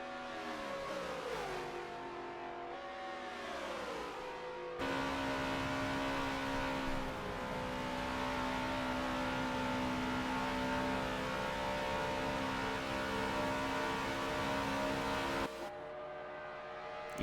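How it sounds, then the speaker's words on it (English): Race car engine in a NASCAR racing video game at Indianapolis, a continuous droning whine that shifts in pitch, with a louder, denser stretch in the middle as another car's motor closes in right behind. "You can hear Ganjkilla's motor right behind Warren."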